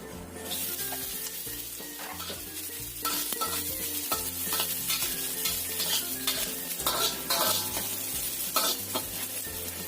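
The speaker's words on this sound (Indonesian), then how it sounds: "Aku tumis dulu sosisnya." Sliced sausage sizzling and frying in about a tablespoon of oil in a pan, with steady crackling and occasional stirring scrapes, close up, over background music.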